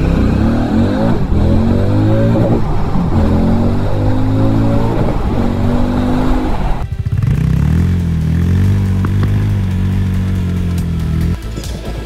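A Hero Mavrick 440 motorcycle engine revs and accelerates repeatedly on a test ride, the pitch climbing through gear after gear, loud and close, with no talking.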